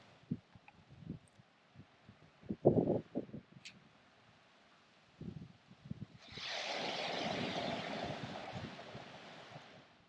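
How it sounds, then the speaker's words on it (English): Wind rises and rushes steadily through trees at a hillside campsite, a broad airy roar that swells in after several seconds of scattered faint knocks and rustles. "The wind and the trees. Very soothing."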